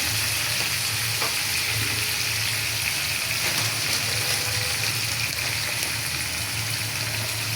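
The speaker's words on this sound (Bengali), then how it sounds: "এখন আমি আলু ভাজিটা আগে করিয়া নিমু। লবণ দিলাম আলু ভাজির মাঝে" Potatoes fry in a pan with salt, giving a steady, close sizzling hiss with occasional scraping stirs, and no talk over it.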